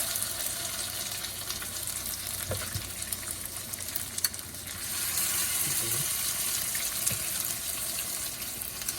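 Swiss chard fritters frying in oil in a pan, a steady close sizzle with faint clinks and scrapes from handling the batter.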